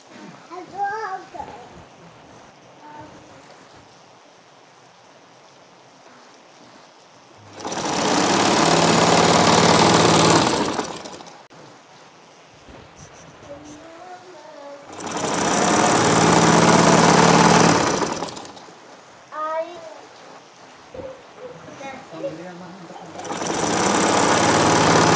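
A Singer Butterfly sewing machine stitches a bedcover in loud, steady runs of rapid mechanical whirring lasting a few seconds each, separated by quieter gaps where a person talks.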